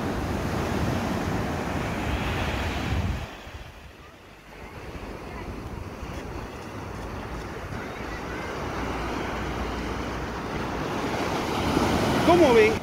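Sea surf washes against the shore with steady roaring wash and strong wind buffeting the microphone, dipping briefly then swelling louder again toward the end.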